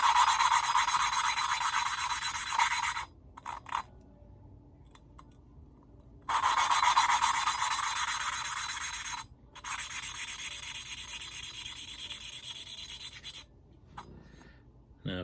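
Kawasaki Z125 engine valves being hand lapped, a loud gritty rasping scrape of valve against seat that stops briefly twice as the tool is lifted and then resumes.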